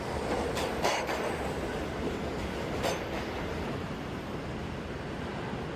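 A subway train rumbles steadily through the Rockefeller Center station in New York City, with a few sharp metallic squeals and clatters over the continuous roar.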